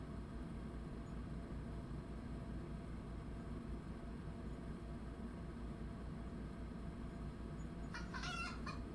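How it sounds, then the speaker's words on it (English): Hens give a short burst of startled clucking near the end, after a long stretch of steady low ambient rumble with no other clear sounds. "Something has the hens spooked"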